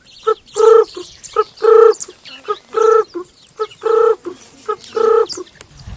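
A man imitates the call of a ring-necked dove, a bird of Tanzania's northern circuit, voicing a repeating rhythmic pattern of short cooing notes and longer tonal phrases, loud and close with brief pauses between them.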